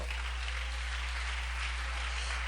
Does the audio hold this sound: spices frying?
no